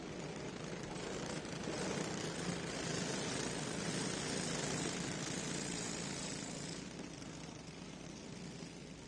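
Several racing karts in the Junior 2 warm-up division roll around a dirt speedway at Tri-County Kartway behind the leader, a steady, dense engine drone filling the whole stretch and swelling slightly mid-way before easing.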